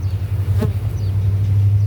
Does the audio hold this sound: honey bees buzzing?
yes